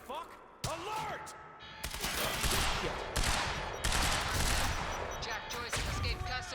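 Gunfire rattles through a garage in Quantum Break, loud overlapping volleys and rapid bursts of shots that keep going for several seconds, with a voice talking briefly amid the shooting.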